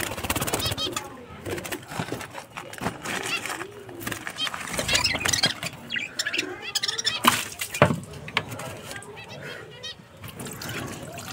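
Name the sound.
zebra finches calling in their cage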